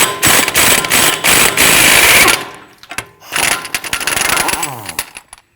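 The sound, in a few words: power tool removing axle nut with 32mm socket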